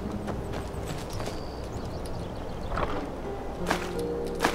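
Horse hooves clip-clop at a walking pace in the Skyrim game world, soft and somewhat distant over a quiet ambient bed, with a few firmer hoof strikes near the end.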